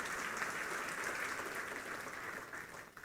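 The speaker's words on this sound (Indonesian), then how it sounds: "Beri tepuk tangan dulu buat Tuhan Yesus." A church congregation at a Sunday worship service in Batam applauds together, a steady, dense wash of clapping from many hands that holds evenly for about three seconds before thinning at the very end.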